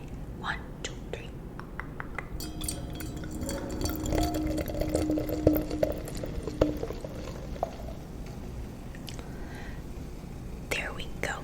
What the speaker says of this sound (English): let's pour myself some Prosecco